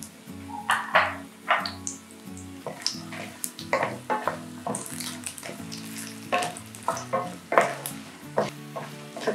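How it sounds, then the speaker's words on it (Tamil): Groundnuts and cashews frying in oil in a pan, with a steady sizzle under repeated short scraping and knocking strokes of the stirring spoon, close up and with no talking. "இந்த கிரவுண்ட்நட் போட்டு அப்பப்போ கிளறணும்"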